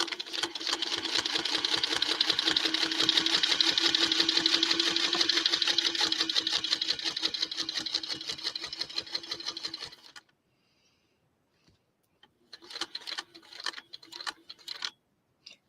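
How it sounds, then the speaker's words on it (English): An embroidery sewing machine stitches in a steady, fast rhythmic run for about ten seconds, stops, then resumes in short bursts, recorded close and fairly quiet. "now I'm going to come down here and I'm going to stitch up and around."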